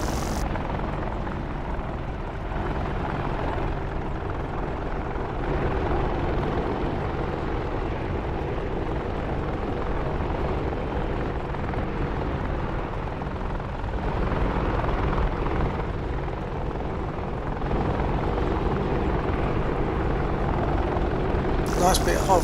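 A helicopter hovers in the DCS flight simulator, its steady rotor and engine drone filling the whole stretch at an even level while people talk over it.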